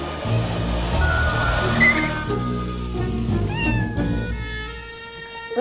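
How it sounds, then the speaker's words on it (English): A cat meows over a busy scene with a low rumble and background noise, and a few rising mewing calls stand out near the end. "Well, thank God that Alcotts have a cat"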